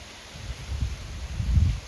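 Strong cold-season wind gusts outdoors, buffeting the microphone and rustling foliage in two swelling, rumbling surges that build toward the end, with no voices.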